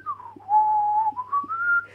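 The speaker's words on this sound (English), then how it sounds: "But maybe I could like whistle down the mic while I'm doing it." A person whistles close to the microphone, a clear wavering tune that slides down and back up in a few sustained phrases, with a low steady hum behind it.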